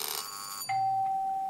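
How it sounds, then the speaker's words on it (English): Doorbell sound effect from a first-person exploration game kit: a bright chime fades, then a clear sustained electronic ding rings out loud and steady, with no talking. "there's also a few doorbells. If we added doors, we probably needed doorbells"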